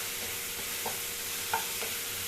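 Manathakkali greens being sautéed in a pan for chutney, a soft steady sizzle with a few light stirring scrapes and clinks spread through, no talking.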